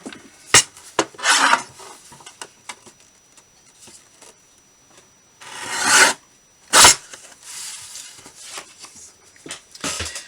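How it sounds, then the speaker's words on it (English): Paper for a junk journal is trimmed by hand, giving close, dry rasping and rubbing strokes in scattered bursts with quiet gaps between them. "I am going to trim this a little shorter, a little narrower."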